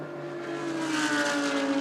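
GT race cars lapping Laguna Seca during a pole shootout in the California 8 Hours, engines droning steadily and building slightly in loudness as one approaches, with a faint high whine on top.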